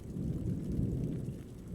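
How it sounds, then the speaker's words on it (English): A low, rumbling wash of acid rain in a video game with a deep thunder-like roll, steady and muffled, without voices. "Nothing like a little acid rain to spice up our night."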